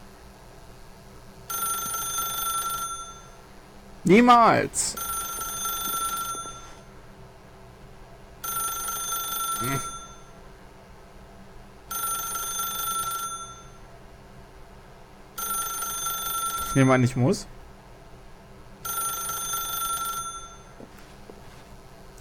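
An old telephone in The Stanley Parable rings in repeated bursts, six evenly spaced rings separated by pauses, with someone speaking briefly between them.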